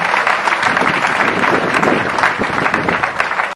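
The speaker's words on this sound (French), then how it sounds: "j'aimerais qu'on acclame encore pour ces temps précieux" A congregation applauds at a church memorial service honoring a patriarch, a thick continuous wash of clapping from many hands, loud and even before cutting off abruptly.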